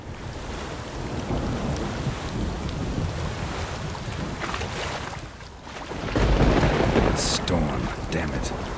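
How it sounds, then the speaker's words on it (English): A thunderstorm with heavy rain and wind rages in The Witcher 3, a continuous roaring wash of rainfall with rumbling thunder that swells louder partway through, no voices over it. "Storm, damn it."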